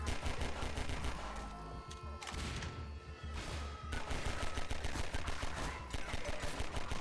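Rapid bursts of Half-Life 2 gunfire crackle continuously over a dense, loud background of game audio, with brief lulls before the shooting resumes.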